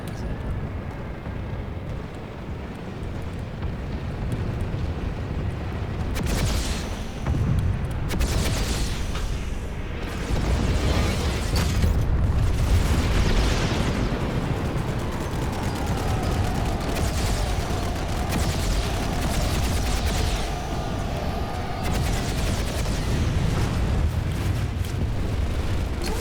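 Small arms fire in the PlanetSide 2 video game, loud rolling bursts of shots and booms in a dense, continuous battle din, with no talk.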